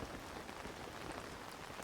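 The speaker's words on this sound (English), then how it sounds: "it's raining" Steady rain falling in a video game, a dense continuous patter of drops on surfaces, even and alone throughout.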